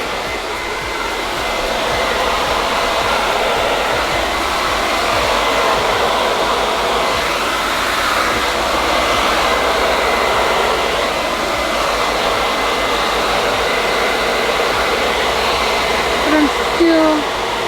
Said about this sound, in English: you could just barely take this diffuser and just kind of scrunch it up and get it to dry a little more